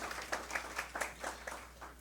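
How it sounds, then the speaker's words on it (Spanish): Light, thin applause from a small audience at an academic course session, a handful of sparse claps in a loose rhythm, fairly faint. "Le damos un fuerte aplauso al señor magistrado."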